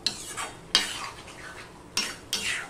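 A spoon stirring ridge gourd and potato with poppy seed in a pan, four distinct scraping strokes against the metal over a light sizzle, close and clear with no talk.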